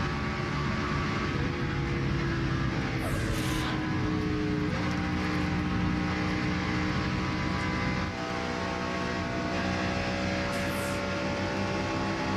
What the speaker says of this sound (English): the cars come roaring past. Let's go full throttle and hear these Busch Series cars at full speed